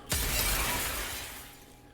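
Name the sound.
window glass smashing, from video game Nikke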